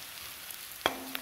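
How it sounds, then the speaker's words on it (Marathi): Onions sauté with spices in a pan for a watermelon rind curry, giving a faint, steady sizzle broken by a sharp metallic clink of a utensil, with no voices. "आता कांदा लाल होईपर्यंत आपण छान परतून घेणार।"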